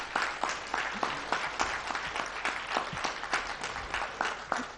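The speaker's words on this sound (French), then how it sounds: "On refait une salve d'applaudissements" Applause from an audience at an annual gathering, individual claps rising sharply out of a softer crowd patter in a loose, fairly regular rhythm, close and steady for several seconds with no talking.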